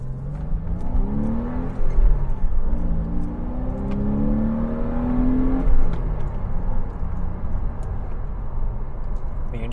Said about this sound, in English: You just listen to that exhaust, that intake noise.